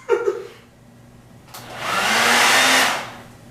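A hair dryer switches on with a short burst, drops off, then blows again as a loud, steady rushing whoosh for about a second and a half before it winds down. No one speaks.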